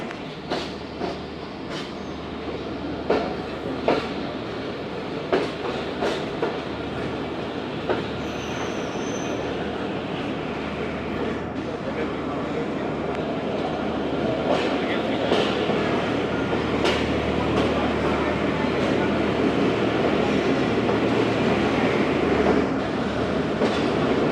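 The late-running Shalimar Express pulls into a station and slows, its wheels squealing and clattering over rail joints in irregular clacks, with a steady rumble beneath and voices faintly in the background.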